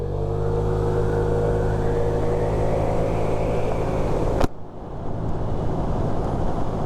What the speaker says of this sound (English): Nice constant rate of acceleration there.